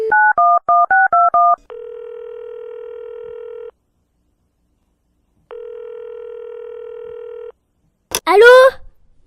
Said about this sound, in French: Hector téléphona à Merlin Pimpin